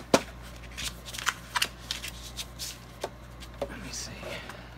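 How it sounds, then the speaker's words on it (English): A paper cutter slices a sheet of folded craft paper, making a series of dry scrapes and sharp clicks in an uneven rhythm, close and moderately loud. "Now, I'm just gonna put it on my paper cutter."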